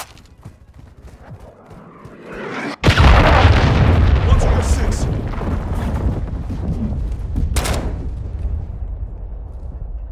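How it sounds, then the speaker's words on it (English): A friendly cruise missile strike in Call of Duty Modern Warfare 2 multiplayer: a sudden massive explosion that hits hard, followed by a long roaring rumble of debris and gunfire. "Friendly cruise missile inbound."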